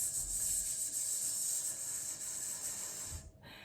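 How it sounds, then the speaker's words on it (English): Breathy hissing exhaled in uneven puffs as a singing breath-control exercise, a steady close hiss that wavers in strength and stops abruptly near the end. "you may find that the hissing is a little bit disjointed"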